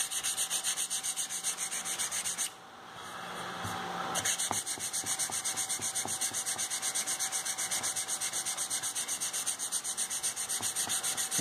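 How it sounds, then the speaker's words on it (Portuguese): Sandpaper rubs a small wooden piece in steady, quick back-and-forth strokes, close up and fairly soft, with a brief pause partway before the sanding rhythm resumes. "Lixa a pecinha por uniforme de novo."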